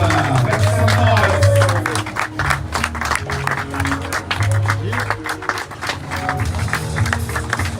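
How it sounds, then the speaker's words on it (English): A crowd claps and applauds continuously at a sailing race prize ceremony, dense and busy, mixed with voices and a low rumble in the background. "Applaudissements s'il vous plaît pour Pip Hair et Jacques."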